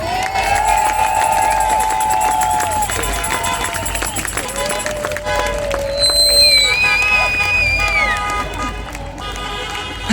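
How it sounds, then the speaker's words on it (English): A rally crowd in Halifax cheers and whoops loudly, with scattered applause, excited shouts and rising voices layered over a continuous roar. "Do they deserve a round of applause?"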